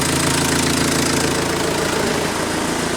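A Renault Trafic van's engine idling, a loud continuous diesel-like rumble with an even knocking pulse, heard up close with no voices.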